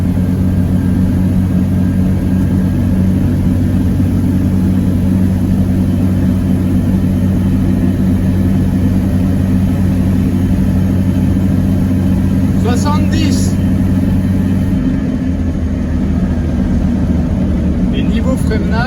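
A small Lyra microcar drives at around 50–60 km/h, its engine droning in a steady, loud mid-pitched hum with road rumble throughout, the pitch dropping slightly near the end.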